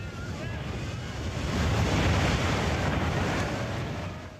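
Tsunami wave surging onto a coast, a broad continuous roar of rushing water and surf that swells in the middle and eases toward the end, heard alone without talk.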